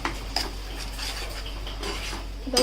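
Green masala paste being stirred into onions in a pan for green chicken, with soft scraping and a few light clinks of utensil on metal, steady and close, no talking.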